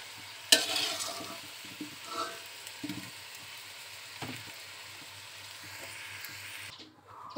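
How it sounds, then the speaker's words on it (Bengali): Potatoes frying in oil give a low, steady sizzle with occasional stirring clinks and scrapes in the pan, fairly quiet and close, with no talking. "দেখো আলুগুলো হালকা করে ভেজে নিয়েছি"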